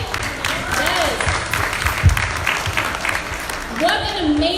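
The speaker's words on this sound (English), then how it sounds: "Can we give it a big round of applause for the event today?" Audience applause at a mental health awareness panel event, a broad wash of clapping from a crowd that holds steady across the moment, with voices and cheers mixed in over it.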